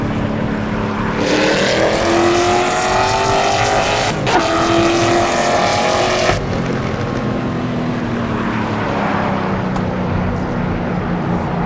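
A Ford Mustang GT V8 in the Assetto Corsa racing game revs up in a loud rising howl, climbs through the range, then the throttle drops and a steady lower engine drone continues; no voices.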